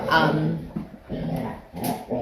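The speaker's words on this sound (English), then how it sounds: "Do you hear my dogs? Again, with the morning wrestling match." Dogs playfully wrestling in the morning, with yips, whimpers and short growls close by, heard under a woman's speech throughout.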